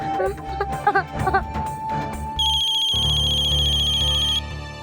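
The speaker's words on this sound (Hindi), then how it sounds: "आप बार बार फोन क्यों कर रही हैं अक्षय?" Muffled voices and shuffling give way to an electronic phone ringtone that trills steadily for a couple of seconds, then stops.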